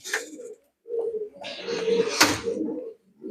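Dove cooing at an Indonesian bird contest, the bird a dragon type sourced from Brebes: repeated low, throaty coos in several bursts with short pauses, close and fairly loud, with a brief sharp noise near the end.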